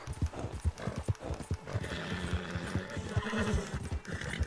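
Horse hooves clip-clop in a quick steady rhythm while riding in the Red Dead Redemption 2 video game, with a brief neigh partway through, close and moderately loud with no talk.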